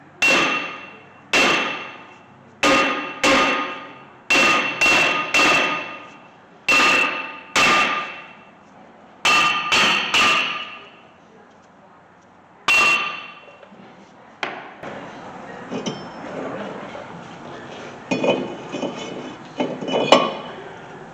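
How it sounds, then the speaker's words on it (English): A hammer beats a seized brake rotor off the front hub of a 2008 Toyota Corolla: about a dozen sharp, ringing metallic blows at a fairly steady pace, then quieter clanking and scraping of parts. "we can beat the rotor off"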